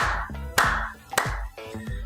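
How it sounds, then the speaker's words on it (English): A few sharp hand claps ring out close and loud, spaced roughly half a second apart in a short rhythmic run, with a resonant room tone behind them. "Clap with me, RJ, clap with me."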